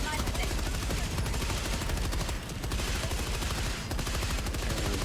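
Dense, rapid automatic gunfire from Helldivers 2, with rounds bouncing off an armored enemy. Loud, continuous shots rattle close by, with only a brief lull midway.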